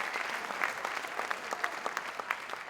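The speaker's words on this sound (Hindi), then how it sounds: "जोरदार तालियां इनके लिए" An audience at a motivational success-day event in Mumbai applauds, a crowd of hands clapping with sharp individual claps popping out of a steady rattle, fairly close and lively.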